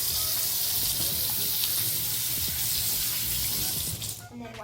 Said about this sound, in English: first, you definitely want to wash your hands because of COVID-19